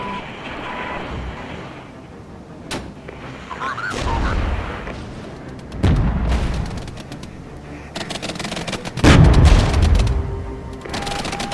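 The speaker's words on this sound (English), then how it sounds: "I was going to drop some heavy artillery on them, get them out of the way nice and quick." Heavy artillery fire in the Regiments war strategy video game, with several deep booming impacts at irregular intervals over a rumbling battlefield background, some blasts louder and closer than others.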